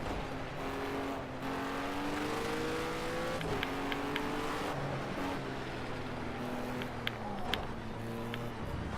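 An American car engine runs in a steady, moderately quiet drone whose pitch rises and falls in smooth shifts, with a few faint, brief squeaks over the top.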